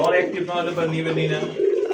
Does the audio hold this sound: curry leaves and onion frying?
no